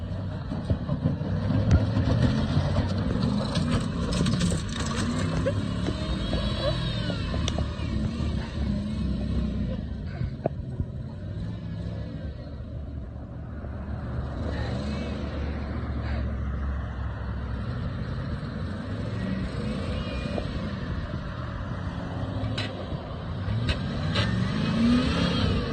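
A limousine doing donuts, its engine revving steadily and loudly with rising and falling surges over a rumbling, close continuous drone.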